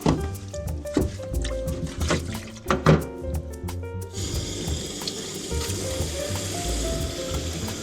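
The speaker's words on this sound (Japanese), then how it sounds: "今日ももやしくんたちを水を交換したいと思います。" Running tap water splashes and pours as bean sprouts get their water changed, starting with a few knocks and clatters of containers before settling into a steady, close gushing stream.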